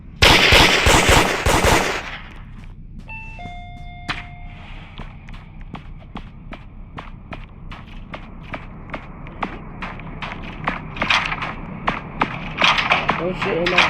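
A staged shooting scene opens with a loud, rapid burst of gunfire lasting about two seconds. A long run of sharp, evenly spaced clicks and taps follows, with a few brief tones.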